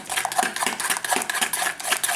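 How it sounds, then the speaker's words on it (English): Avocado, mayonnaise and honey are stirred together by hand in a bowl, giving a steady run of soft scraping and clicking strokes in a quick, regular rhythm. "I mix that all in together."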